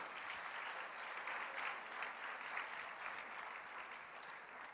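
A church congregation applauds in a steady, sustained wash of clapping that neither builds nor fades. It is fairly quiet and distant, with no clear voices over it.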